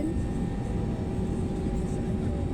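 A Boeing 747 at Hong Kong International Airport, a steady loud low engine roar filling the whole stretch from inside an aircraft cabin, with faint background voices.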